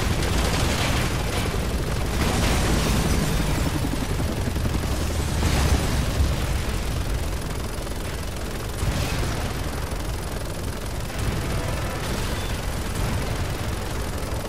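Repeated loud rocket blasts and booming explosions from Resident Evil 6 gameplay, several heavy bursts over a dense, continuous rumble of combat noise with no talking.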